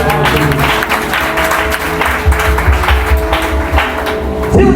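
A church congregation breaks into applause to acclaim the Lord, a loud, continuous stretch of clapping from many hands, with cheering voices and music mixed in underneath.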